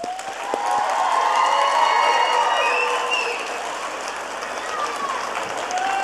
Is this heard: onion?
no